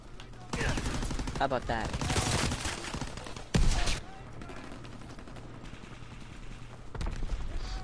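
Bursts of video game gunfire, with rapid automatic shots and a louder blast in the middle, spread through the stretch under casual voices talking.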